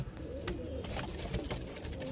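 Pigeons coo softly in a short burst, low throaty calls repeating amid faint clicks and background rustle.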